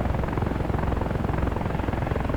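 A helicopter in the DCS World flight simulator drones steadily with continuous rotor thumping, a loud, unbroken engine roar with no talking.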